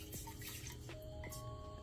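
Water trickles and splashes quietly into a pot for simple syrup, a brief, faint pouring sound with a few drips, heard alone.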